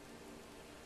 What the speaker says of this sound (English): Never stops bloody raining.